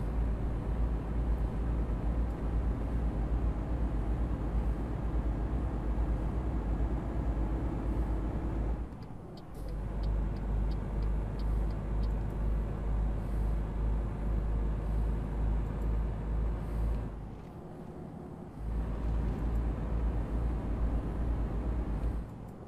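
Scania R truck engine in Euro Truck Simulator 2 labouring up an incline in 10th gear with an 18-ton load, a deep continuous drone with two brief dips, no talk.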